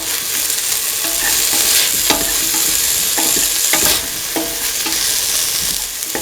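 Potatoes are stirred into a sizzling chickpea mixture in a pan, with loud continuous frying hiss and repeated scraping strokes of the spoon and no talking.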